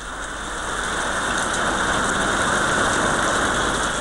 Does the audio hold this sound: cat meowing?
no